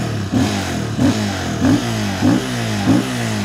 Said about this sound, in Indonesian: Suara mesin ya biasa aja. Motor 200 cc single cylinder.